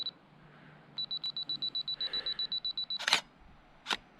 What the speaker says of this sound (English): I'm gonna put this on a 2-second timer.